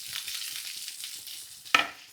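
Parsley fries in a pan of butter garlic prawns with a soft steady sizzle, then a sharp scrape of a spoon stirring near the end.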